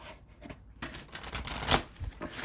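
Tarot deck being shuffled by hand, a short burst of papery riffling and slapping cards lasting a couple of seconds, close and fairly quiet.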